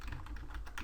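Typing code on a computer keyboard while building a survival game in Unity, a quick run of soft, close key clicks over a low steady room hum, with no voice.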